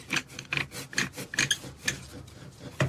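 Traditional hand drill boring into wood, a series of rhythmic rasping scrapes, about eight strokes in under three seconds, close and clear with no talk.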